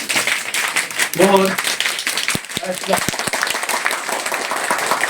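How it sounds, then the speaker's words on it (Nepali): A group performs simsime clapping, a rhythmic Nepali clap pattern done on command at a training camp: bursts of many hands clapping together in quick sharp strikes, with a leader's voice calling counts over the claps. "यो सिमसिमे ताली, अब धेरै ताली छ, तालीको धेरै प्रकार छ होइन।"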